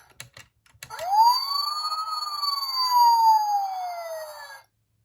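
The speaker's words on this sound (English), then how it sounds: "There's a non-looping siren." A few clicks, then a single non-looping electronic siren wail from a 2001 Transformers: Robots in Disguise Omega Prime toy that rises and slowly falls before cutting off abruptly, tinny and toy-like.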